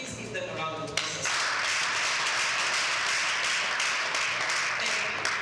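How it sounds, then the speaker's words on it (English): Audience applause at a live event: a dense, steady wash of clapping starts about one second in and holds for several seconds, following a brief voice at the start. "Please give them a round of applause."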